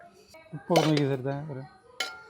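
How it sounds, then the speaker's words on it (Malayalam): Food is mixed in a metal pot for chicken roast, a spoon clanking against the pot with a sustained ringing scrape in the middle and a sharp clink at the end. "ഇത് മിക്സ് ചെയ്യാം."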